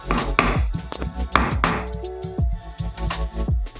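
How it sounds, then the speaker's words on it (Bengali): Ginger is ground for a Bengali bitter gourd dal, producing close, uneven rhythmic thuds and scraping knocks that come in short bursts. "আদাটা বেটে নেব।"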